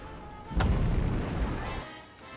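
Heavy artillery fire from multiple hostile positions in the real-time strategy game Forts: a loud booming blast swells suddenly and rolls on as a dense rumble for over a second before fading back to a low background.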